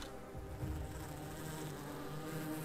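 Bees buzz softly around a tree house in a dwarf mining video game, a faint continuous insect drone under low background music.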